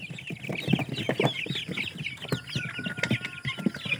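A Rhode Island rooster clucks and murmurs close by in repeated short calls, with other fowl chattering and faint higher bird calls in the background of a farm coop.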